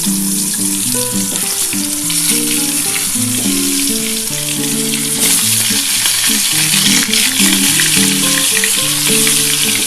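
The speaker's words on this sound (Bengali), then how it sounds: "আমার তেলটা গরম হয়ে গেছে এবার আমি পটলটা একটা একটা করে ছেড়ে দিচ্ছি" Loud, continuous sizzling of pointed gourd pieces frying in hot oil, close up, with soft background music playing underneath and no speech.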